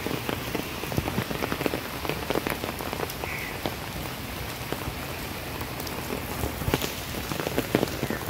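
Steady rainfall during the monsoon season patters continuously on surfaces nearby, a dense even hiss with scattered louder drops throughout and no voices.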